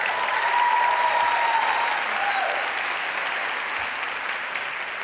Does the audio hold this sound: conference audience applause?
yes